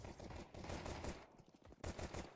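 Rapid, dense gunfire in the shooter Counter-Strike 2 at a professional match, with a Glock pistol among the weapons. Overlapping shots rattle continuously at a low, distant-sounding level throughout.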